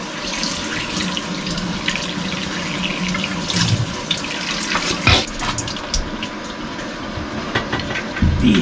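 Water flushes steadily through a newly replaced home water filter to clear out loose carbon, a continuous close rushing flow with small splashes and spatters and no voices.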